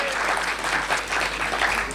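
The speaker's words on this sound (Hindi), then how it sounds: "जोरदार तालियां होनी चाहिए" A crowd at a Hindi poetry gathering in Mumbai breaks into loud, sustained applause, dense clapping holding steady for two seconds.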